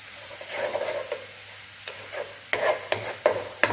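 Grated tomato drops into a hot mustard-oil tempering, giving a low sizzle broken by several scraping stirs of a spatula that grow louder and more frequent toward the end.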